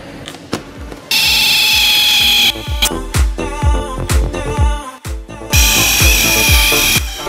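Car body panel sanded with P150 abrasive during bodywork repair: two loud, steady bursts of power-sander whine and grinding, separated by a stretch of clattering, tapping tool noise.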